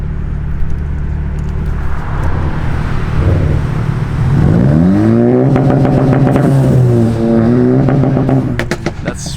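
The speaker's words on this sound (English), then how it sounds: "I think he has Cobb 2-step, so it allows him to sound like such." A car with Cobb 2-step launch control revs hard at a car cruise, engine note climbing and holding in rising and falling sweeps, loud and close, with crackling pops near the end.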